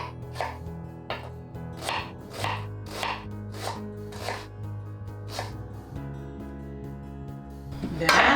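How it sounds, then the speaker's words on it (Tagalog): A knife mincing red onion on a cutting board, about a dozen crisp, evenly spaced chops ringing out close and clear over a steady background hum, with no talking. "I use red onion for this. We cut in a minced cut like this."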